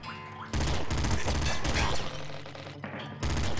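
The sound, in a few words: machine gun fire in the video game Nuclear Throne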